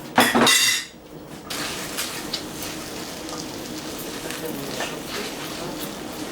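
Salt cod being stirred in warm oil in a pan for brandade: a loud metallic clatter of utensil against pan at the start, then a steady soft scraping and gentle sizzle close by, with no voices.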